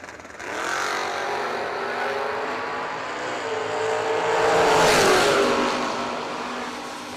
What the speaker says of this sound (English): 99 Camaro, 4th gen ride.